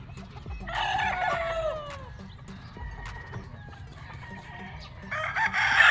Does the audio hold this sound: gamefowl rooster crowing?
yes